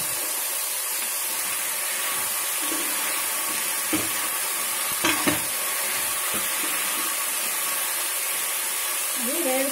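A steady, soft sizzle of brinjal, green chillies and other vegetables frying in a pan for Devi Navaratri prasadam sakannam, with a few faint scrapes and clicks from stirring.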